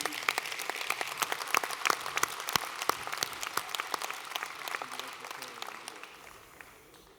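Conference audience at a CFDT Commerce and Services union congress applauds a delegation from Réunion, a steady patter of many hands clapping at moderate distance that fades out over the final second.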